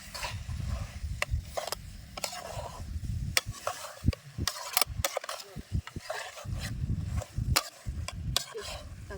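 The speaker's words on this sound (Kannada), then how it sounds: "ಇದೀಗ ಬೆಂಡೆಕಾಯಿ ಹಾಕ್ತೀನಿ" Okra is tipped into a pan of masala and stir-fried for North Karnataka style bendekai palya. Close scraping and stirring strokes come in bursts, with a soft sizzle underneath and brief pauses.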